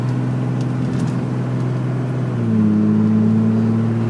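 A 2004 Dodge Ram 5.9 diesel dually 4x4 cruises at speed with a steady, fairly quiet drone and tire hum, the engine tone stepping up slightly partway through and holding evenly afterward.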